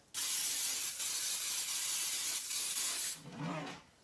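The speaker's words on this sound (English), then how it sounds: "We're going to use Baker's Joy. So I'm going to just spray it" Baker's Joy baking spray hissing from an aerosol can onto the sides of a pan for pumpkin bread: a long, loud continuous spray, a brief pause, then a short second burst.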